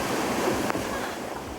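Strong wind and giant waves from Hurricane Dean on a southwestern coast churn in a loud, broad roar of surf and gusting air, with a brief surge midway through.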